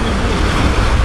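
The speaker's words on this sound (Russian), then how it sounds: "Нет, сегодня волна высокая." High waves breaking on the Yenisei river, a steady loud roar of surf and water churn mixed with wind buffeting the microphone, continuous throughout with no talk.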